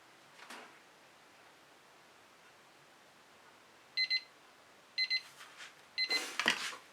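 A kitchen-style timer in an acrylic painting studio goes off with three short bursts of high electronic beeps about a second apart, followed by rustling handling noise, against a quiet room hiss with no speech.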